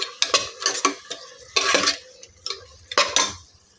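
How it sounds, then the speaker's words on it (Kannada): Masala paste frying in oil while being stirred, with irregular close scraping strokes of a spoon against the pan over a low sizzle, alternating between bursts of stirring and brief quieter gaps, no talking. "ಚೆನ್ನಾಗಿ ಮಸಾಲೆ ಎಲ್ಲ ಫ್ರೈ ಆಗಬೇಕು"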